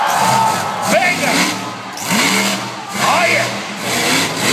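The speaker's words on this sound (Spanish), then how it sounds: "Escuche nada más el motor. Jamás deja de acelerar." A car engine revs repeatedly in rising, falling surges amid a noisy crowd, with voices and cheering mixed in around the roar.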